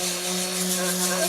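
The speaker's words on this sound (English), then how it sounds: "Let me just get you a close-up picture of the sanding." A power sander works over a wooden stool, giving off a steady, even whine with a constant hum and a broad rushing noise that holds at the same loudness throughout.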